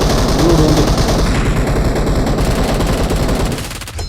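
Rapid automatic gunfire from a shooter video game, loud and sustained in a dense burst of shots that tapers off near the end.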